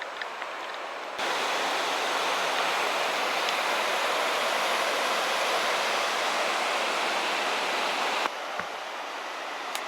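A river rushes beside a walking path near Beddgelert in Snowdonia, a loud, steady broadband wash of flowing water that swells in abruptly and cuts off just as suddenly, with no voices.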